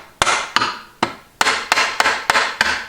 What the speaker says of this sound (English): I'm going to give it a couple of taps to